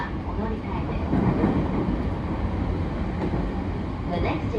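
JR E231-1000 series train car MoHa E231-1118, an unrenovated set running from Tokyo toward Ueno, gives a steady, loud running roar with dense rumble and faint rail clatter throughout.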